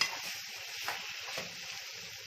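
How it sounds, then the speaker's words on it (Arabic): Okra and onion sauté in a pan with a steady soft sizzle and occasional stirring scrapes, quiet and close, with no voices. "هنشوح بقى البصله بتاعتنا الباميه بتاعتنا مع البصله"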